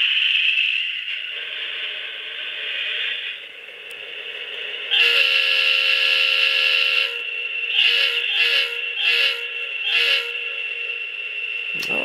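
Atlas Master Line GP40 model diesel locomotive with DCC sound, a sustained tonal engine drone with horn blasts that swell to a long loud blast and several short repeated toots, alone with no talking.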